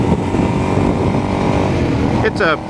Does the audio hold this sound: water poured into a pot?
no